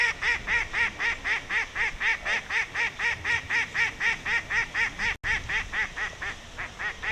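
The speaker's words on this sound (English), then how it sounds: "Andy Power trying to catch ducks" Ducks quack repeatedly in a fast, steady rhythm beside a fishing lake during a competition final, loud and fairly close, with a brief break near the end and no talk.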